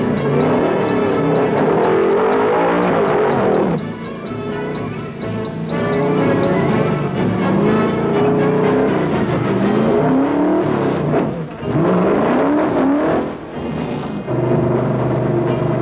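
A 1971 stock race car pulls away from a pit stop, its loud engine roaring and revving close by with rising and falling pitch as it accelerates, amid continuous racetrack engine noise.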